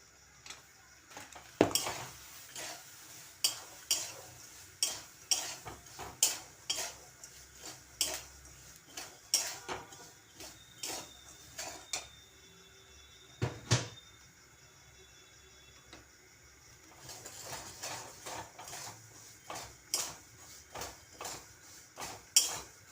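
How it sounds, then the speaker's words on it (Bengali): Soaked peanuts tossed in hot salt in a pan give a continuous dry rattle, with repeated sharp scrapes and clinks of a spatula against the metal at an irregular rhythm. "এখন আমি জলে ভিজানো বাদামগুলি দিয়ে দেব অল্প অল্প করে দেব আর ভাজবো"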